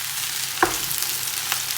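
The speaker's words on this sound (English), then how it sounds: "Then we're going to stir it all around." Chopped onion frying in a pan for mushroom soup, giving a steady, even sizzle close by, with one sharp clink of a utensil as it is stirred.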